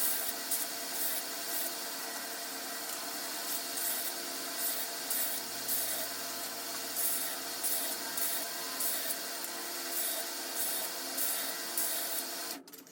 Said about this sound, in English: That's a 60 grit belt, just to give a good surface for that epoxy.